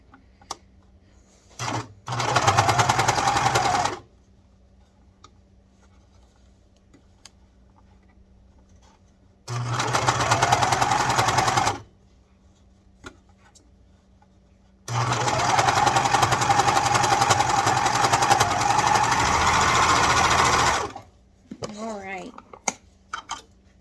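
A sewing machine stitches the cuff of a child's shirt sleeve in three loud, close bursts of rapid mechanical whirring, separated by quiet pauses with small handling clicks.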